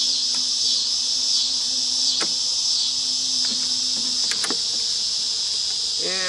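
Robber bees at a nearly empty beehive during an inspection, a steady high buzzing hum with a few louder passes of single bees, close and continuous.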